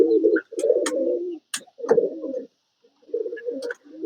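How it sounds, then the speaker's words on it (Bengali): Pigeon cooing close by in several low, throaty bursts with short pauses, as the bird is caught indoors at a rural home during heavy rain in Tungipara, Gopalganj. "এই কবুতরটা আসার সময় বাইরে ছিল, বাড়িতে ধরানো হচ্ছে।"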